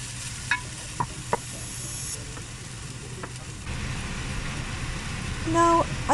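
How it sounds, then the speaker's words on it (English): Garlic and ginger sautéing in about two tablespoons of oil in a heated pot give a steady close sizzle, broken by a few sharp clicks and stirring knocks and swelling slightly louder near the end. "Now let's saute the garlic and ginger."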